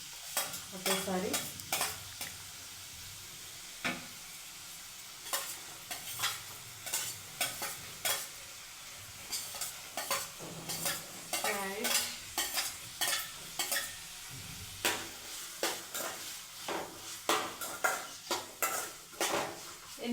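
Cabbage and other vegetables frying in a pan for egg fried rice, with a soft steady sizzle beneath repeated scraping and clinking of a spatula as they are stirred, close and quiet, with no talk.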